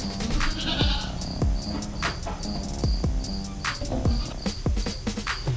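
Goats on a farm let out repeated short bleats, close and moderately loud, over a constant background of chirping crickets.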